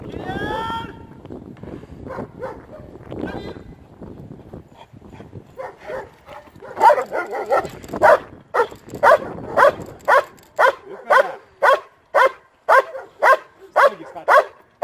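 A dog barks in a loud, steady series of sharp, evenly spaced barks, preceded by a stretch of people talking and a few whimpering yips.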